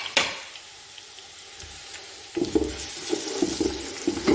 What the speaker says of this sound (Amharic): እዚህ ጋር ሽንኩርት እየጠበስኩ ነው።